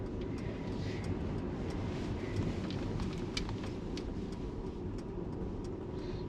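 A steady electric Mercedes-Benz EQS hums and road noise rumbles continuously, heard from inside the car as it pulls off and rolls along.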